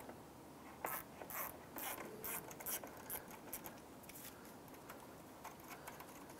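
Quiet ratcheting and scraping as an intake tube clamp is loosened on a Jeep Wrangler, with a cluster of close clicks early on fading into a soft, steady mechanical rub.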